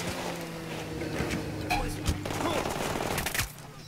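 Bursts of rapid gunfire from the co-op shooter Ghost Recon Wildlands, a steady rattle of shots with a couple of sharper cracks.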